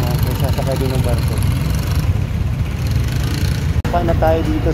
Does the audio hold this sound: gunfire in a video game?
no